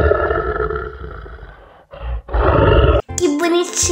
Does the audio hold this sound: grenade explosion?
no